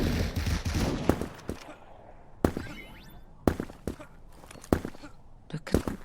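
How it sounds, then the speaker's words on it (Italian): Gunfire in the video game Krunker, several sharp shotgun blasts spaced irregularly over a few seconds, with footsteps and a voice talking in between. "Ho sparato un colpo per sbaglio."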